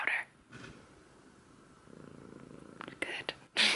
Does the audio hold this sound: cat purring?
yes